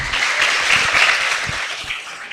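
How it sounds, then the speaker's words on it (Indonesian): A short burst of applause for a child's answer at a religious talk in Banyuwangi, a brief loud patter of clapping from a small group, close by. "tepuk tangan."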